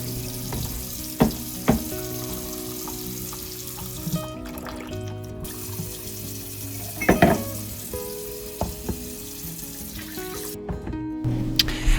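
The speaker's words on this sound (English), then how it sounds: "I'm going to put cold water over it, and then I go back over it with hot water" Cold water running over a cracked wine bottle while its glass is being separated, a steady trickling, splashing flow with a few sharp knocks and clinks of glass.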